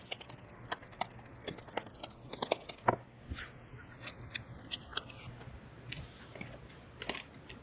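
Tarot cards being shuffled and drawn, a close series of soft papery flicks, slides and sharp snaps in irregular rhythm, quiet and without talk.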